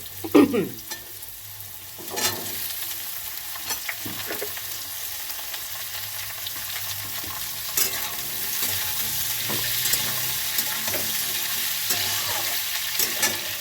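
Thin-cut potatoes fry with bitter gourd in a pan, a soft steady sizzle broken by intermittent scraping and clacking stirs of a spatula, close and moderately loud with no voices.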